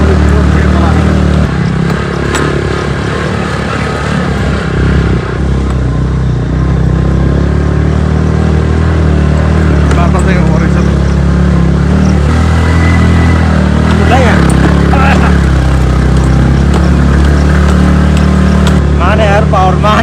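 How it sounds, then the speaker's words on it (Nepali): A motor scooter runs steadily as it is ridden off-road up a dirt slope for the first time, its low engine drone continuous beneath nearly constant nearby talking. "अफरोडमा फर्स्ट टाइम चलायो यार स्कुटी।"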